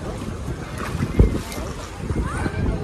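A boat ride on the water in Mumbai, with engine rumble, wind buffeting the microphone and splashing water, heard close, with people talking over it.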